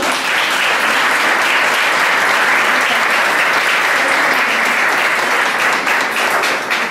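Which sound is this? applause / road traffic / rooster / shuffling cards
applause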